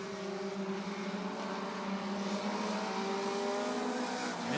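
Race cars in a Bandit heat racing around Rockford Speedway, layered engine drones rising and falling in pitch as cars pass, heard from a distance at moderate level with no voices.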